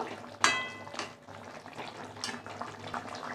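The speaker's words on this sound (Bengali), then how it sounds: "এবার ফুটলে পরেই নামিয়ে নেব" Rui fish curry bubbling in a pot, a soft continuous simmering hiss with a sharp clink near the start and a few faint bursts.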